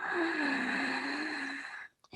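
A long, steady ujjayi breath drawn during a yoga practice, a soft, hissing, ocean-like airflow with a faint tonal edge, close and alone, ending in a brief pause.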